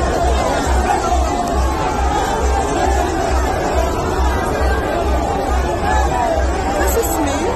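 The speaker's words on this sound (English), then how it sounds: "This is me, and then this is the crowd." Dense crowd chatter at an APC political rally in a stadium in Kano, a loud continuous babble of many voices close around, with a rhythmic low thumping underneath.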